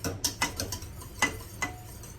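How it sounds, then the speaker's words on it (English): A spoon stirs lemon meringue pie filling in a pot, giving faint, soft scraping taps at an uneven rhythm with no voices. "I'm going to slowly add this mixture in while constantly stirring"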